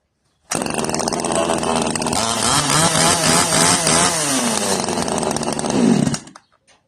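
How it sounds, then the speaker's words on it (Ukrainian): A PRO-CRAFT K300S single-handed petrol chainsaw starts abruptly and runs loud and close for about six seconds, its engine pitch wavering and rising before it cuts off. "Це бензопила"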